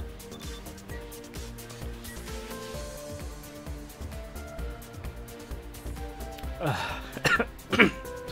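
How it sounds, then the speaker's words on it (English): Coughing bursts near the end, loud and close, over a continuous bed of game music with a few short coughs and throat clears. "Excuse my coughing."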